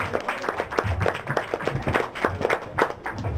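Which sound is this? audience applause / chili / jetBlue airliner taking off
audience applause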